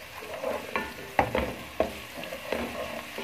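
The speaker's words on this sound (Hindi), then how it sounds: "अदरक लहसुन का पेस्ट ये शामिल कर दूंगी।" Ginger garlic paste sizzling in a pan with fried onions for desi chicken curry, stirred with a spoon that knocks and scrapes the pan a few times over a low, close frying hiss.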